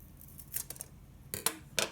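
A balsa wood stick being cut to fit the side of a model bridge, heard as a few quiet, crisp snips and clicks spaced unevenly, close by in a still room.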